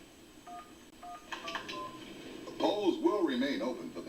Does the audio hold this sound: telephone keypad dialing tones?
yes